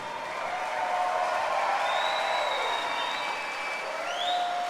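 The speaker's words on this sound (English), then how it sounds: "a big round of applause for both of the fighters in this cage" Crowd around an MMA cage applauding both fighters after a bout, steady moderate clapping from a distant audience with a thin whistle-like tone above.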